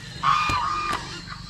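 A couple of sharp calls from hungry chickens, with one drawn-out squawk over low background chatter of birds, close by.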